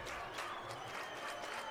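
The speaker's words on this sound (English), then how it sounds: "And here comes our clapping chant." Spectators at a 2A high school baseball championship game between South Sevier and Kanab clap together in a loose, rhythmic chant, heard as a fairly faint wash of crowd noise with a hint of voices.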